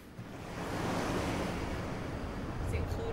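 Ocean surf washing in steadily as a broad, continuous rush of broken waves, moderately loud and fairly close, with a faint higher sound briefly near the end.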